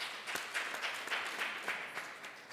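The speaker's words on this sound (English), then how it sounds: "Give them a round of applause." Applause from the audience at an anti-corruption round table panel discussion, a short moderate burst of clapping at medium distance with uneven, scattered hand claps.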